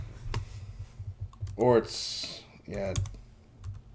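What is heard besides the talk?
typing on a computer keyboard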